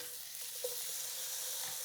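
Quiet, steady sizzle of food in a hot pan, an even hiss with a faint clink partway through and no voices.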